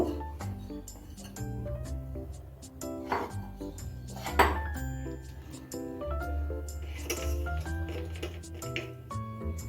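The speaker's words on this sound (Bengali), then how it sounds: "এখন আমি আটার ময়দাটা একসঙ্গে মিশিয়ে নিব" Atta flour and salt are stirred together in a bowl, with a spoon or utensil clinking and knocking against the bowl in an uneven rhythm. There are a few louder taps and soft scraping between them, all close.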